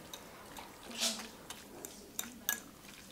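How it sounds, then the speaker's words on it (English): A utensil stirring turkey tetrazzini in a baking dish, with a few faint scrapes and sharp clinks against the dish spread across a quiet room, and a soft voice in the background. "Trying to stir it up"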